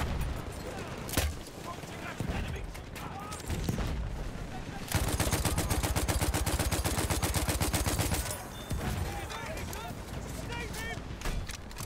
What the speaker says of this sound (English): Guy's using a mortar right here.